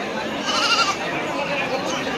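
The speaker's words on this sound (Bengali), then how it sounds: "দেখতে পাচ্ছ অনেক ছাগল কিনেছে আর এখানে অনেক ছাগল পাওয়া যায় এখানে" Goats bleat at a busy goat market in Dakshin Dinajpur, India, with a brief wavering cry rising over crowd murmur and nearby voices.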